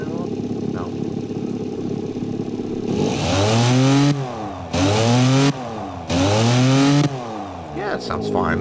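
Unmuffled car engine in the Automation and BeamNG.Drive games, a Cominturismo-style build with the mufflers removed, revving loudly in three strong sweeping bursts over a steady rasping idle, with short drops between them.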